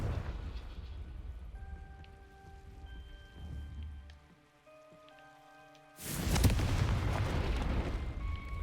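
A Confringo fire spell in Hogwarts Legacy bursts suddenly into a loud, roaring explosion that keeps rumbling and crackling after a quieter stretch of ambient game tones.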